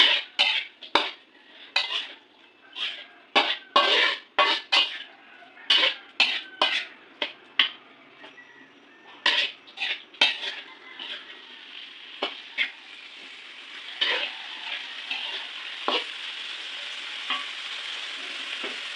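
Boiled banana blossom is stir-fried and tossed in a pan, with many sharp close clanks of a utensil against the metal over a steady sizzle. The scraping is busy at first and eases off as the frying hiss carries on.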